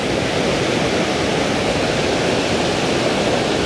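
The waterfall at Choke Creek Falls in Pinchot State Forest, Pennsylvania, heard from right above the falls as a steady, loud rushing roar of falling water, unbroken and without voices.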